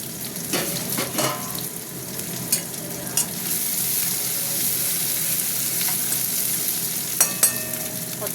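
Onions frying in a pan, sliced in generous quantity for a picnic meal, give off a steady crackling sizzle throughout, with a few brief clicks of stirring and utensil taps over the frying.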